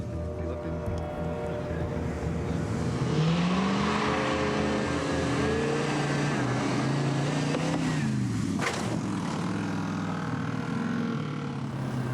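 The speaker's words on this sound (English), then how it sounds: "we're just doing a little test jump to test the pressures in the shocks, front and rear" A stunt car for an action film does a test jump to check shock pressures, its engine revving loudly and steadily up and down close by, with voices underneath and a sharp jolt near the end.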